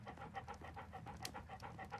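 Rapid, rhythmic dog panting from the dog Toby in the video game Sherlock Holmes: Crimes & Punishments, steady quick breaths close up with no talk.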